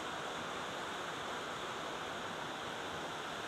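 A strong current pours over Pinlac Falls as a continuous, even rushing roar, soft and somewhat distant.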